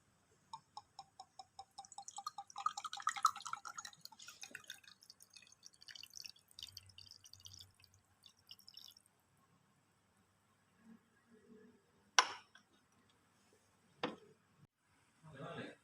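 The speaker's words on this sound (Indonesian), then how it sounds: "Larutan yang sudah homogen dituang ke dalam beker gelas." A homogeneous laboratory solution is poured into a glass beaker, heard as a run of close, rapid drips and trickling splashes that fade out, then sparse faint drops and clinks.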